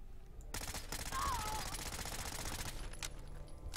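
Rapid continuous automatic fire from an OTs-02 Kiparis SMG in Fallout 4, a dense rattling burst lasting a few seconds, loud and close with game background noise and brief pauses at the start and end.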